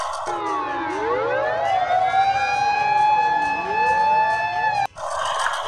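A toy ambulance's electronic siren wails in loud, continuous rising and falling sweeps for several seconds, cutting off abruptly near the end before a brief burst of other noise.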